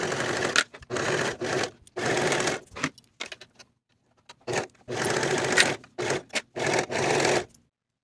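A sewing machine stitches the side seams of a halter dress and its lining, running in several loud, steady whirring bursts of about a second each, separated by short pauses and small clicks.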